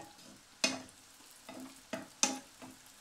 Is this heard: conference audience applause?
no